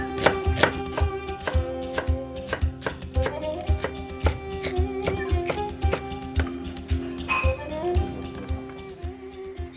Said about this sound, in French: plus l'herbe elle est forte, là même d'ici je la sens, et plus il faut la couper fin